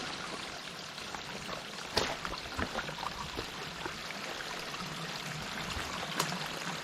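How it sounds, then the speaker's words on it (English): Water runs steadily from a pipe spring at Birch Spring campsite 113 in the Great Smoky Mountains, a soft continuous trickle and splash with a few sharper drips, heard up close with no talking. "So I'm getting some water here from the pipe spring at the Birch Spring campsite"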